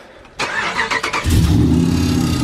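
A cammed Ram truck engine cranks with a few rapid starter pulses, then catches and settles into a loud, deep, lumpy idle close by.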